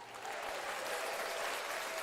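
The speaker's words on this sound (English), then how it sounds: "we need more of an applause than that." Steady applause from a small group during a lunch-break pinball session restoring a Lady Luck machine, a dense, even clatter of clapping that holds for about two seconds without pause.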